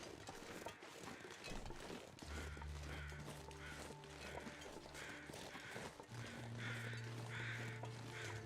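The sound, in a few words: crows cawing near a carcass in the video game The Long Dark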